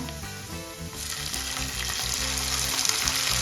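Tomatoes sautéing with golden fried onions in a hot pan make a dense, loud sizzle that intensifies after a second and continues steadily, heard close with a low background hum.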